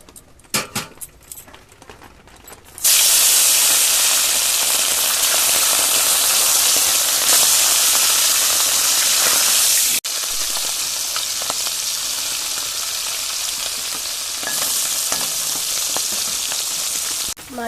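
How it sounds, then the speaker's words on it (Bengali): Parshe fish frying in hot oil in a wok: a loud, dense, continuous sizzle bursts in after a few quiet seconds of kitchen clatter and runs steadily, with a brief dip midway. "তাহলে মাছগুলোকে ভেজে নেওয়া যাক।"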